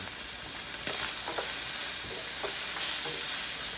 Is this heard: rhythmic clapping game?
no